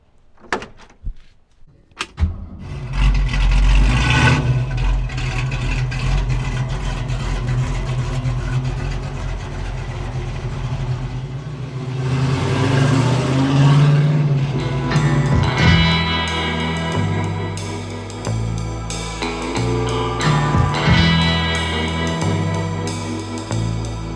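A 1965 Ford Mustang is started and driven from inside the car, a loud steady engine drone that shifts pitch with gear changes and revving, with a door clunk near the start and no talk.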